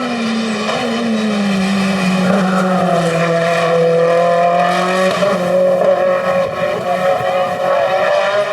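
A Mitsubishi Lancer Evo rally car in closed-car competition roars past at high revs, its engine note loud and steady with a shifting pitch throughout, no talk.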